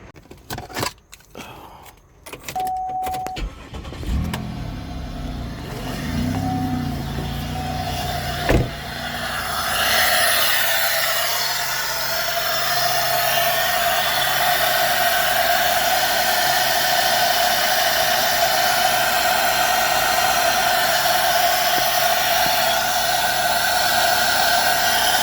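A small car's engine, its valve cover sprayed with brake cleaner to clear soot from a small engine fire, turns over after a few clunks and catches, then runs steadily and loudly close by with a constant whine.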